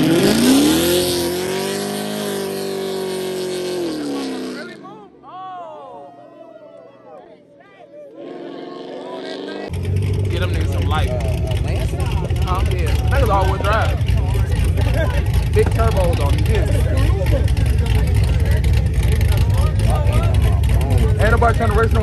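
A Dodge Hellcat engine roars and revs loudly in traffic, dropping briefly to a quieter idle before surging back into a sustained heavy drone, with voices talking over it.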